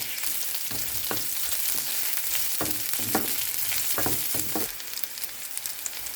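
Onion and garlic fry in hot cooking oil in a pan, a close, continuous crackling sizzle broken by repeated scraping strokes of a stirring utensil, with no voices.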